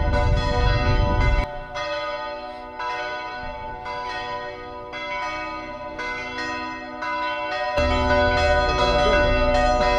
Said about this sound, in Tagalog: Ganda ng bell nila oh.